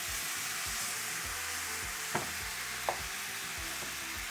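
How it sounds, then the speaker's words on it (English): Tempeh frying in a pan with garlic and a splash of sauce, giving a steady close sizzle with a couple of brief clinks near the end. "add a little bit of this sauce just to add a bit of flavor to our tempeh. That will start to fry."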